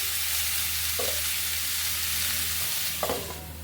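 Half-ripe green papaya frying in a pan as the lid comes off, a steady close sizzle with a couple of soft clinks from the lid or spoon, and no voices.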